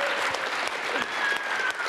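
Audience applause at a corporate earnings webcast event, a steady dense wash of clapping from a crowd, fairly close and continuous throughout without pause.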